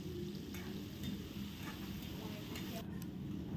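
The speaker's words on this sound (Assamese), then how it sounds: "তাত শুকান জলকীয়া আৰু তেজপাত ফোৰণত দি পিঁয়াজ বহাই দিম। এয়া মই পিঁয়াজখিনি ভালকৈ ভাজি ল'ম।" Onions frying in oil with dried chilli and bay leaf for an Assamese-style local chicken curry, giving a steady, close sizzle that runs unbroken throughout with faint scraping of stirring.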